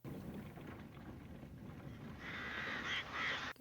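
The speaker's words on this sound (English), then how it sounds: "Oh Lord, the birds." Birds cawing in a scene from the 1939 film Gone with the Wind, harsh calls rising over a steady low rumble in the second half, fairly close and alone without voices.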